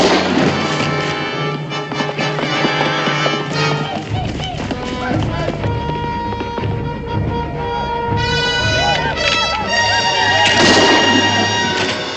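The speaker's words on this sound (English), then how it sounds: "that newfangled rifle he's got 3 times faster than a musket" Rifle gunfire in a western TV episode set on the frontier, sharp shots amid a busy battle scene with hoofbeats and commotion, loud and close, with voices mixed in.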